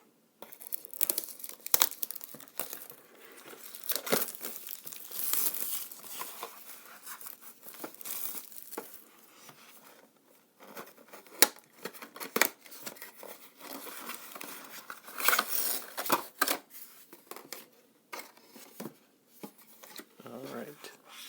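Packaging of a Warlord Games SPQR Roman Cavalry Command box set being torn and crinkled open, with bursts of ripping and rustling plastic and card close by, pausing and resuming, mixed with occasional talk.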